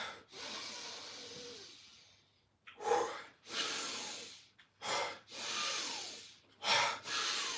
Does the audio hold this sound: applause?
no